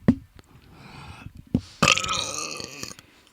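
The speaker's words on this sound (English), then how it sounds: "I had a burp, but it's not coming" A single close burp from a person, one short belch burst standing out loudly after quieter mouth and throat noises, with no talking.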